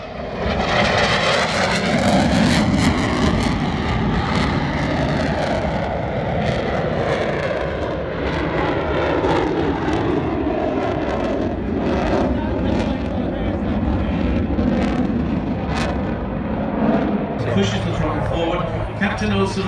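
A fighter jet with an F-135 engine climbing into the vertical at an air show at Duxford, a loud, sustained roar with shifting tone, while an announcer talks over it throughout.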